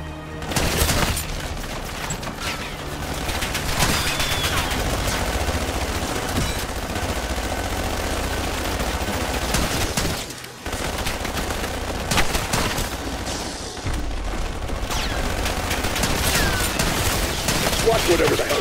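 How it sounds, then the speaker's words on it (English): Sentry turret in a first-person extraction shooter firing continuous bursts of automatic gunfire, loud and dense throughout, with a brief lull near the middle amid other game noise. "Sentry turret."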